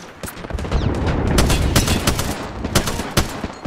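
Automatic weapon fire in Apex Legends, with dense overlapping gunshots and bursts running the whole time, loud and close, punctuated by sharper individual cracks.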